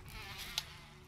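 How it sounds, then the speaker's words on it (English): Insect buzzing in the Resident Evil HD Remaster video game, a steady, close droning hum lasting about a second with a brief sharper accent near the middle, with no other sounds around it. "I hate the sound of bees, man."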